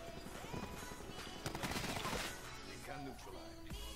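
A dense rattle of automatic gunfire from Black Ops, shooting through a wall, with a fast sustained burst mixed with game sounds, at moderate loudness.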